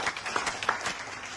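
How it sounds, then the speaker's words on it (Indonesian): Brief, light applause from a small group in a guesthouse setting, a few scattered claps over a short burst at moderate distance. "Tepuk tangan dulu buat Atmo"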